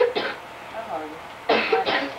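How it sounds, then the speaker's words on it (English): A couple of rough coughs with quiet throaty sounds between them, close by and moderately loud. "he's starting to cough"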